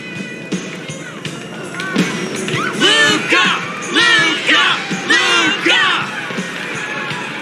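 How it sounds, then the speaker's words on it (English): Cheering crowd in an arena in Honkai Star Rail, rising yells and whoops in repeated waves that stay loud and close throughout. "the crowd never gets tired, do they?"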